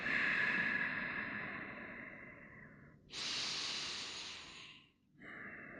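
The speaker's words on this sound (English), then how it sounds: "Inhale through your nose. Exhale out the nose." Slow, audible breaths in and out through the nose during a yoga session, close and soft, with two long airy breaths followed by the start of a third.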